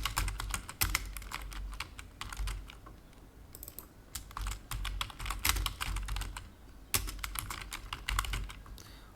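Rapid computer keyboard typing while coding an HTML page in a web development tutorial, with dense irregular keystrokes, close and steady, several louder bursts of clatter, and no talking.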